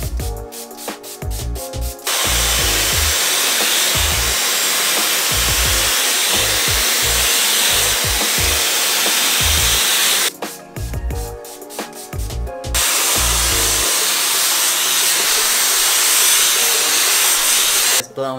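A hair dryer blows loud and steady through hair treated with Tresemme heat protectant. Its roar breaks off twice into brief pauses filled with low thumps and rustling before starting again.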